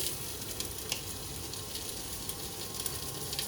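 Onions with a pinch of salt frying in a pan for chicken pumpkin curry, a faint, even sizzle with a few light crackles, steady throughout without talk.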